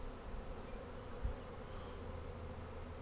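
A swarm of bees hums in a steady, dense drone that stays level throughout, with one brief soft knock partway through and no voices.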